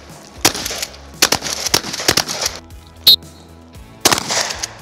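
Shotgun blasts ring out during a close quarters training drill, several sharp, loud reports in an uneven sequence, some closely spaced, with gaps between and no talk over them.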